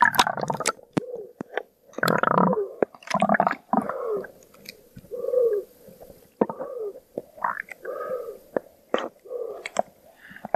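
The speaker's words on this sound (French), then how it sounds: "le bruit que tu entends, c'est des bulles d'air qui s'échappent de la perche" Gurgling, bubbling bursts recorded close up underwater, air bubbles escaping from a pole, irregular and muffled, with squishy pops and low burbles coming in uneven clusters.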